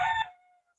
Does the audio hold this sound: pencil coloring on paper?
no